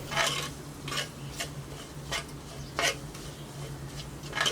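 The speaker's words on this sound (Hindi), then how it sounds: "बेसन को भी बहुत ही अच्छे से आप भूनोगे तो बहुत ही अच्छी खुशबू आने लगती है" Gram flour (besan) dry-roasting in a pan for urad dal kachori filling, stirred with a spoon in repeated scraping strokes, a steady faint background hum beneath, no talking.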